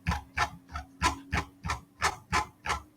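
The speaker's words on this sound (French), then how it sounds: "c'est ma roulette. Je sais pas pourquoi quand je remonte, elle fait ce bruit-là." An office chair caster squeaks in a steady, evenly spaced series of about nine short creaks as the chair is raised, each one close and fairly soft, with a faint constant hum underneath and no talking.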